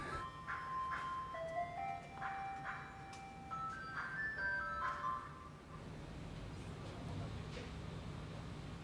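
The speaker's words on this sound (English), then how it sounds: "Gonna have to stop this ice cream trucks here." Tinny ice cream truck jingle plays a looping melody at moderate distance over a steady road rumble, then fades out as the truck moves off.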